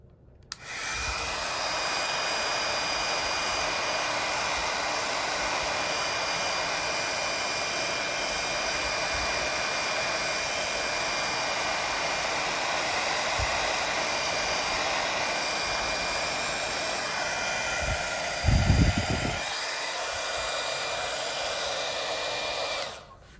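A heat tool blows steadily over Hero Arts Hero Hues reactive glitter ink, a loud continuous whooshing roar that runs unbroken for over twenty seconds, with a brief low bump near the end before cutting off.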